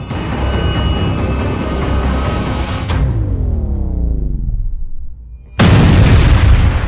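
A loud explosion blast in Krasnodar, caught in news footage: a sustained, roaring boom fades into a descending rumble, followed after a brief lull by a second, abrupt burst of loud noise.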